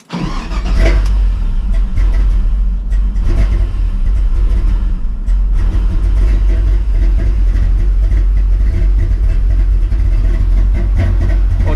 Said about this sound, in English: We're gonna give her a flash now and see if we can get the thing to start.